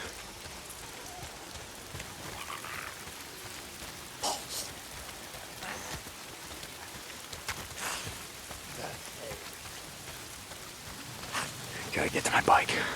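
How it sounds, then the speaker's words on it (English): Steady rain falls on surfaces in the video game Days Gone, a constant hiss with scattered louder drops and splashes, fairly close, with brief voice-like sounds over it. "If it's not the freaks, it's the goddamn rain."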